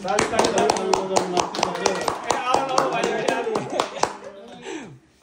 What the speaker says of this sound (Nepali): ताली बजाउँ ताली ताली